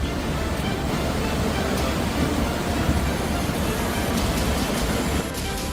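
The Dhaarhaal river in monsoon flood, a steady loud roar of rushing water that fills the whole stretch without a break.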